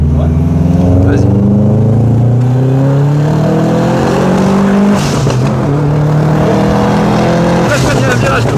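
A car fitted with a brand-new stage 3 engine drives hard through a turn, its loud engine drone rising and falling steadily from inside the cabin while people talk over it.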